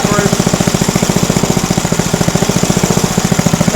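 Small Briggs & Stratton engine running steadily at a set speed, a loud, close, rapid pulsing chug throughout with no speech.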